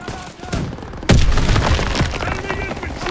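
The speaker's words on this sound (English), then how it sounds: "Gunfire! We must be near our guys." A sudden loud burst of gunfire in Call of Duty: WWII cuts in after a quieter stretch, with booming shots and crackling fire continuing under a voice.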